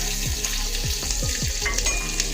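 Mustard seeds, cumin, curry leaves, chillies and garlic sizzle in hot oil for a tempering for sweet yellow dal, a steady close hiss with a few soft popping bursts and light stirring.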